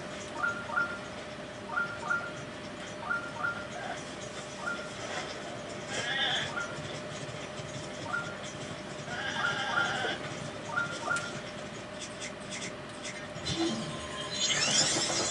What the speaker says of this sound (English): Goats will sometimes charge at you.